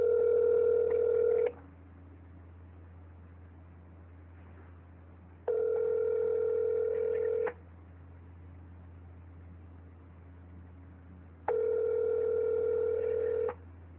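Telephone ringback tone on a call to 911, three long electronic rings about two seconds each separated by roughly four-second gaps over a steady low hum, with no one answering or talking.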